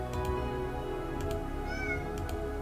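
A cat meows indoors, a few short tonal calls over a steady low hum, alone without talk.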